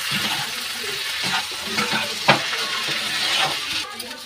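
A spiced vegetable mixture is stirred dry in a frying pan with a steady sizzle and scraping, the spoon scraping and knocking at uneven intervals, close and fairly loud.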